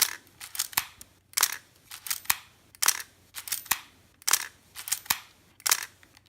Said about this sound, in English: now I'm going to shoot this thing to the 8th frame